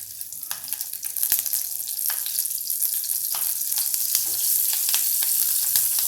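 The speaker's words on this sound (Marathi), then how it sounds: "आत्ता आपण काय करणार आहोत तेलामध्ये या मिरच्या टाकणार आहोत" Green chillies dropped into hot oil with asafoetida for a Marathi curd metkut chilli side dish, giving a loud, continuous sizzle and crackle with scattered pops, stirred now and then, and no talk.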